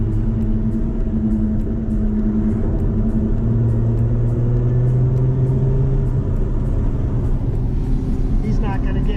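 A Chrysler Crossfire SRT6 drives in sport mode with steady, moderate engine drone and road rumble, its pitch shifting gently as it rolls along under light throttle, with a person talking over it.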